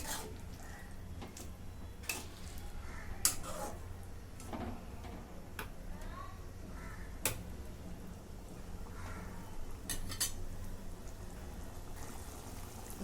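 A spoon works chickpea masala and salt together in a pan, giving scattered light taps and clicks against the metal over a low, steady background, with no talking.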